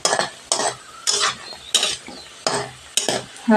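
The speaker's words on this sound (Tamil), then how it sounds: "கொஞ்சம் பொன்னிறமாக வர வரைக்கும் வறுத்துருவோம்" Potato cubes and soy chunks fry in a pan, with a spoon scraping and stirring in regular bursts about every half second over a steady close sizzle; no one speaks.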